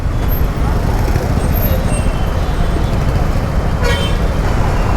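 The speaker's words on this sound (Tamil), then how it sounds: "ரைடர் சரியான டிராஃபிக்காக இருக்குங்க" Midday road traffic heard from a rider in a busy Tamil city street, with a dense, loud engine rumble throughout and a short horn toot near the end.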